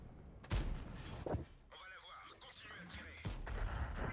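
Tank cannon shots from a Bat Chatillon 25t in a tank battle video game, with two sharp broadband blasts about a second apart near the start and a third later, mixed with game sounds and engine rumble.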